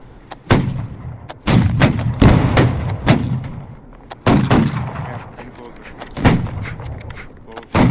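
Musket volleys crack out at a historical reenactment, a dozen or so sharp, booming shots fired raggedly in bursts, some close and loud, others farther off, with brief gaps between the clusters.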